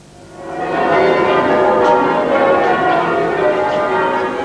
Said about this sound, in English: The bells of Hereford Cathedral rang out in greeting as the royal couple arrived outside the north door of the cathedral.